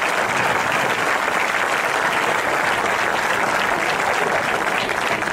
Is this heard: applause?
yes